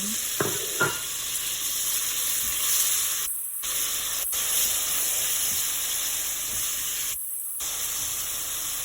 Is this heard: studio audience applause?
no